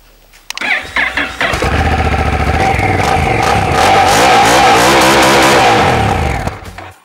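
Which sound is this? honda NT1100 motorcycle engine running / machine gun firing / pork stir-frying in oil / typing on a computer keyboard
honda NT1100 motorcycle engine running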